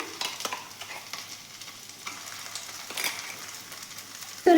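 Steamed bean paste goes into a hot pan and fries with a soft, steady sizzle, broken up by brief scraping stir strokes, all close by and fairly quiet with no talking.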